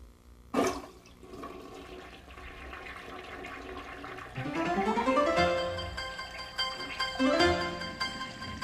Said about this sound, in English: Haven't you ever wondered what happens to the water after you flush the toilet?